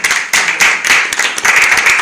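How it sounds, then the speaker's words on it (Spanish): A church congregation claps hands together in a lively, loud burst of rhythmic applause, several quick rounds close by with no talking. "denle palmas al Señor, amados hermanos"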